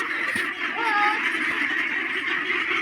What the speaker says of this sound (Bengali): দেখেন হাঁসগুলা কি পাগলা হয়ে গেছে